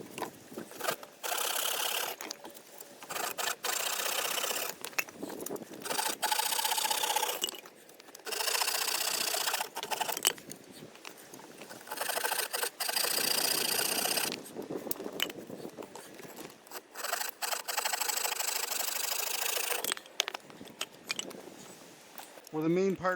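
A hand saw cuts through small logs for a raised shelter bed in the woods, with repeated rasping strokes in bursts broken by short pauses.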